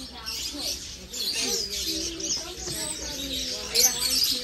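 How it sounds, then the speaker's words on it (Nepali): Birds chirp and call at a crowded flower, bird and insect market in Mong Kok, a busy mix of tweets and coos with people talking in the background. "सुगाहरू पनि रहेछ"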